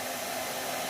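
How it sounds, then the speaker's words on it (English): A hair dryer drawing about 1500 watts through a smart plug blows with a steady, loud broadband whoosh and an even motor hum, continuous and close, with no voices. "this hair dryer is consuming quite a lot"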